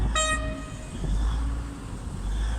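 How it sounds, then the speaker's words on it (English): A British Rail Class 158 three-car diesel unit pulling into a station sounds a short, sharp horn blast, followed by the low rumble of the train easing along the platform. "I was literally just talking about the 158. And it's pulling in."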